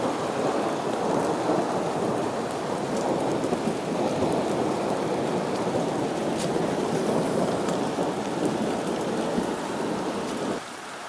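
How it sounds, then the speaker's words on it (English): Heavy rain pours down outdoors during a thunderstorm with lightning, a dense, steady roar of drops hitting surfaces with low thunder rumbling underneath, continuous and close without any talking. "It's coming down really good. I love this rain."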